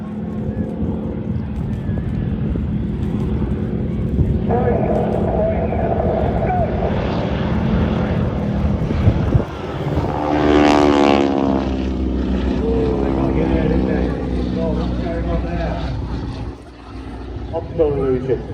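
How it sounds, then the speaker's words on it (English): Propeller-driven display team aircraft pass at the International Ayr Show, a loud engine drone that swells as the planes close in and sweeps past, while a commentator talks over the PA. "Watch as they reposition the aircraft coming back in now."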